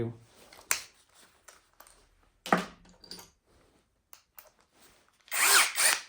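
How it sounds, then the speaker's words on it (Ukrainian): An Eltos DA-16 BL brushless drill driver drives a 100 mm screw in several short, whirring bursts separated by quiet gaps, ending in a longer, louder run. "Беремо ось такий гвинт, довжина 100 мм"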